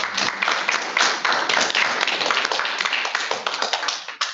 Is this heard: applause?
yes